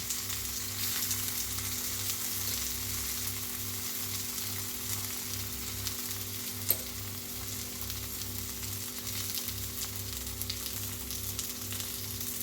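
Raw plantain slices fry in oil in a pan, giving a steady, even sizzle that runs throughout with no talk.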